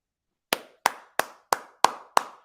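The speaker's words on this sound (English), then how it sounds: "Round of applause." Slow, evenly spaced hand claps ring out close by, seven sharp, crisp strikes in a deliberate rhythm after a brief silence, like a single person applauding.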